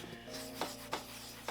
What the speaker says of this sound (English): Sanding this down a little.